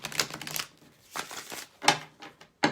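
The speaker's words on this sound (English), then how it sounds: "but let me give it a quick shuffle." A Deviant Moon tarot deck shuffled by hand, with several quick crisp bursts of cards riffling and slapping together, close and fairly loud, separated by short pauses.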